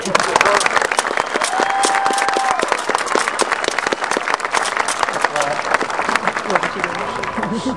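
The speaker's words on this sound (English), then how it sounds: "please go ahead and give Joe a round" Graduation audience at a high school ceremony applauds a class president's speech with sustained, dense clapping throughout, loud and close, with a brief whistle and some crowd voices mixed in.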